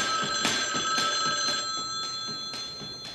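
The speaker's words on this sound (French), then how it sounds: "Téléphone! Je vais les répondre, OK?" A telephone bell rings in steady repeated bursts about half a second apart, bright and insistent over a busy background, with no clear speech.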